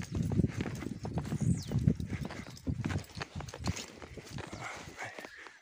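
A mare's hooves clip-clop at a walk on a farm, a steady irregular series of close, fairly loud knocks with rustling between them and no one talking.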